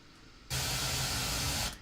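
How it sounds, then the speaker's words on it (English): Bright, steady white noise from an Airwindows audio plugin switches on abruptly after a moment of quiet hiss, holds loud and even for over a second, then cuts off. "So let's quickly hear white noise."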